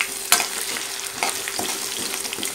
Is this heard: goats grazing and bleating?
no